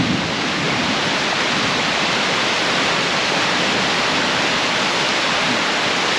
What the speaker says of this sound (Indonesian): Hujan arusnya makin deras.